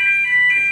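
Left open, a door sets off its alarm, a piercing electronic tone that beeps in a steady repeating pattern, loud and near, with no voices.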